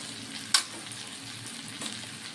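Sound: spices with coriander and Kashmiri chili powder frying in pan

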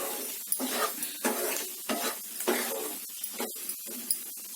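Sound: masala powder and baby potatoes stirred and frying in ghee

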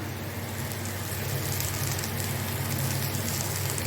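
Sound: onions sautéing in a pan for egg masala

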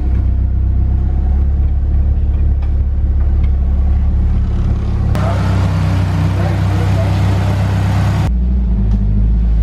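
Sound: drift car engine warming up and revving

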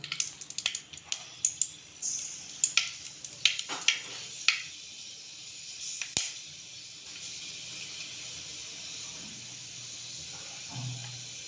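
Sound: fenugreek seeds spluttering in hot oil

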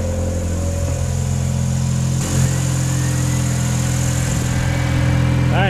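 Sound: jeep radiator fans, oil cooler fans and fuel pumps running

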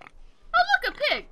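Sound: pig oinking in Game of Thrones Telltale video game

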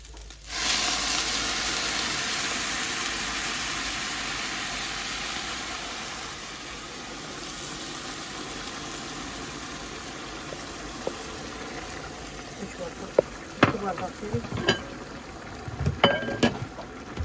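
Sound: boiling water added to sizzling browned butter

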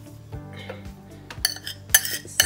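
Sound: pot and utensils clinking in saucepan

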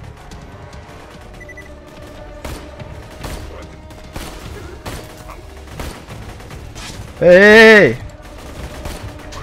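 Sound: gunfire from a weak gun in the video game Borderlands 2

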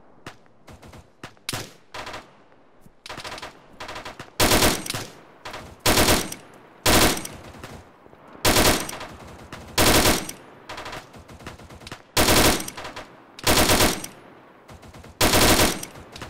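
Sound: gunfire in the Arma military video game

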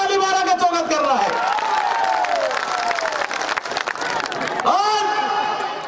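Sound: crowd applauding at a political rally

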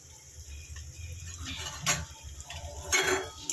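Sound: stirring tomato with turmeric, salt and garam masala in pan

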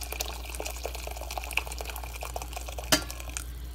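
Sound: hot water poured into a soup pot

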